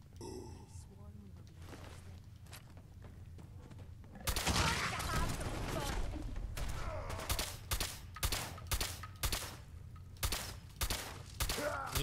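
Gunfire in the game Fallout 4 from an AK-style rifle: a few scattered shots at first, then a loud run of rapid bursts in uneven rhythm with grunts between them and a voice talking over it.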